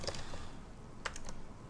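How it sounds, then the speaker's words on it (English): Quick bursts of typing on a computer keyboard, a few close clicky keystrokes at the start and again near the end, with no voices. "I'm typing that into chat right now."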